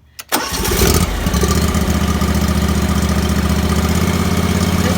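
A Cub Cadet Pro 636 mower's engine cranks briefly, then catches and settles into a loud, steady, close idle that continues to the end.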